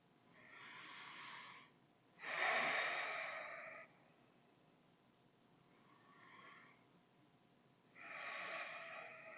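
Slow, audible breaths during a yoga crescent lunge, with arms raised overhead: soft airy exhales in separate rounds with quiet pauses between them, close and fairly faint.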